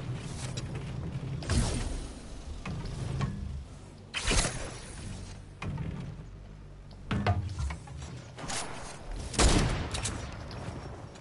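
Bursts of rapid gunfire from a shooter video game rattle in repeated volleys, loud and close, with short lulls between them and no talk over them.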